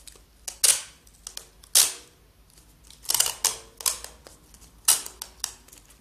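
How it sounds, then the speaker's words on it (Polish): Adhesive tape is pulled, cut and pressed onto a can to hold a balloon in place. Several sharp, crackling rips and snaps come up close, with quieter clicks between them and no talking. "Utnę kawałek taśmy i zamocuję tutaj balonik"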